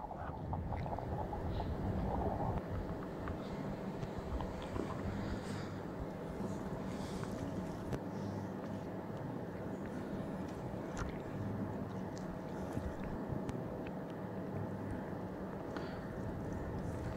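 A fishing boat fitted with twin engines runs at speed on open water, producing a steady, continuous motor drone mixed with rushing wind noise against the microphone; no one speaks.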